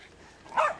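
A puppy gives a couple of short, high yips that rise abruptly near the end after a quiet lead-in, fairly close and alone with no talk.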